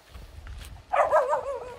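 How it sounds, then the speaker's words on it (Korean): A dog on a rural property where sea-buckthorn trees grow gives a whining, whimpering yelp that rises suddenly and wavers, fairly close, following a stretch of quiet outdoor background rumble. "울지 마. 짖지 마."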